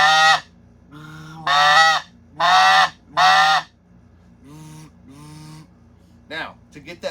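A snow goose call blown with a hand cupped over the end for a low murmur: four loud, close, muffled honking notes in even succession, then softer low notes and a few quick chirps.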